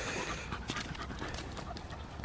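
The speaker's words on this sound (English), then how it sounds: "I've just got Clover and the two collies." Two collie dogs pant outdoors near a maize field on a farm, quick rhythmic breaths at close range with faint shuffling, alone without talk.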